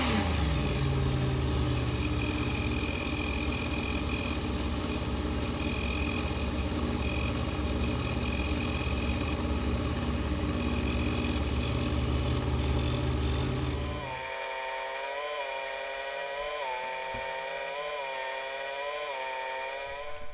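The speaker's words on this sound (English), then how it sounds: "This will start the process of polishing up that blade to get it to a nice, smooth finish." A Work Sharp powered belt knife sharpener runs loud and steady while a finer-grit belt polishes a knife blade. The motor whine continues for about fourteen seconds, then drops to a quieter, lower hum until the end. No one speaks.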